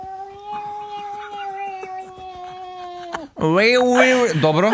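A cat gives a long, drawn-out meow, then after a brief pause lets out a louder, wavering yowl, close by.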